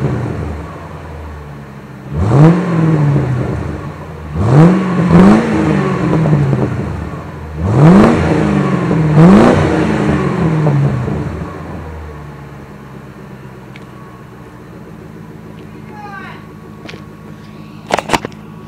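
A 1996 Ford Crown Victoria police package car with glass pack mufflers and stock catalytic converters idles about eight feet away, blipped through four short throaty revs that fall back to a low rumble, followed by quieter idling.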